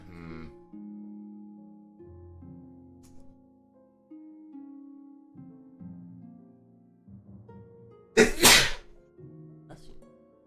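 A single sharp sneeze bursts out partway through, loud and close, following a stretch of sustained tonal music or drone with no talking.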